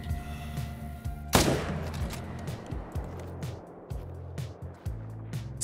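One hunting rifle shot rings out in Call of the Wild, a single sharp, loud crack followed by a rolling echo over a quiet outdoor lakeside ambience with faint background music.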